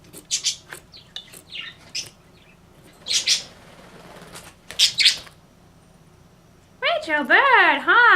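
Three pet birds loose in a house give sharp chirps and squeaky calls in scattered bursts, ending in a long warbling trill, with quiet talking between the calls.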